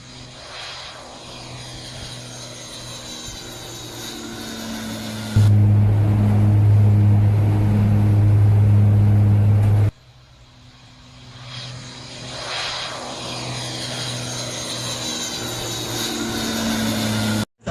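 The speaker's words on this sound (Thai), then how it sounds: "อีกชุดหนึ่งครับ จะเป็นเครื่องบินคาซา" A CASA aircraft from the royal rainmaking operation roars loudly with a steady propeller drone, its engine note rising and sweeping as it passes close by at an outdoor launch ceremony.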